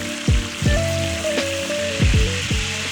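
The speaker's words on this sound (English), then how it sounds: "Let's go ahead and add some white wine to the pan here." White wine poured into a hot pan after chicken, letting out a loud burst of sizzling with sharp crackles and hisses that swell several times over a steady frying bed, no voices.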